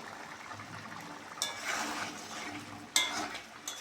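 Chicken curry being stirred in a pot, soft wet sloshing with two sharper scrapes of a utensil against the pan, quiet and close with no voices.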